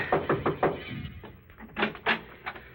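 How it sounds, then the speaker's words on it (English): Knocking on a wooden door as a radio drama sound effect: a run of four sharp raps, then a pause and a few more spaced knocks, close and clear with no talk. "I knocked at the door."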